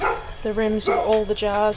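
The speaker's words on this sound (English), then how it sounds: "You can hear the dogs in the background" Several dogs bark in quick repeated yaps in the background of a home kitchen during water bath canning, while a person talks over them.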